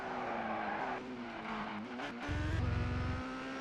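A Formula Ford race car laps in the video game ToCA 2 Touring Cars, engine whining steadily with gear-change pitch shifts and a short burst of tire squeal near the end, no talking.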